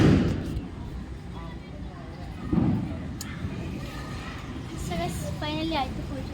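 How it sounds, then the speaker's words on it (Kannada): Diwali firecrackers burst outdoors near a shop puja, with a loud bang at the start and another about two and a half seconds in, amid crowd noise and children's voices, while people talk over it. "ಪಟಾಕಿ ಎಲ್ಲ ಜೋರು ಹೊಡಿತಾ ಇದ್ದಾರೆ"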